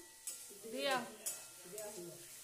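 Tomatoes being stirred in a frying pan while cooking fish curry, soft scraping strokes of a spoon with a light sizzle, quiet and close, a few separate stirs.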